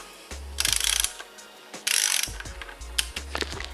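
Ratchet unscrewing a fastener during a Subaru timing belt install, two loud close bursts of rapid clicking followed by lighter scattered clicks and clanks, with no talking.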